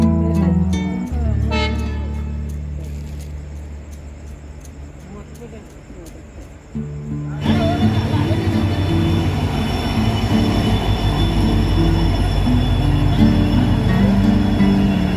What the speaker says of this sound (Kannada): ಯಾವ್ದೋ ಒಂದು ಟ್ರೈನ್ ಬರ್ತದ.